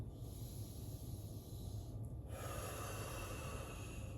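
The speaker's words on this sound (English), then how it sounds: "Exhale down. Inhale up." Steady, audible breathing during a calming yoga flow for anxiety, slow inhales and exhales running continuously and close, with a faint hiss-like airflow and no talking.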